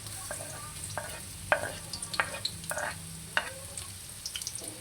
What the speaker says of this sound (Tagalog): Then, igigisa natin ang ating sibuyas. Kasabay na natin ang ating bawang.